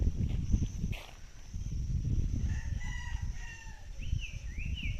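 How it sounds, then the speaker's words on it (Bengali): A distant rooster crows faintly over low rumbling background noise, its thin call wavering near the end of the stretch. "ওই দেখুন মুরগি ডাকছে।"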